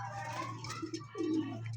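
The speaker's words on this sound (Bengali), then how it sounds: "ভাই খাকি কবুতর একদমই দুধ খাকি" Khaki pigeons in a loft of local and imported racing birds giving soft, low coos, a few close rounded calls over a steady hum, with no talking.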